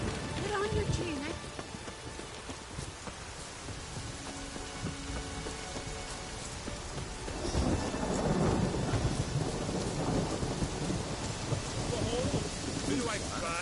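Heavy rain pours steadily in the video game The Witcher III: Wild Hunt while thunder rumbles and swells, growing louder and denser in the second half; no clear voices.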